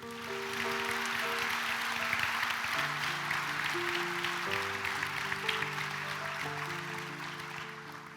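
An audience claps steadily through a higher vocational school diploma ceremony in Novo mesto, the dense applause holding for several seconds while music plays underneath.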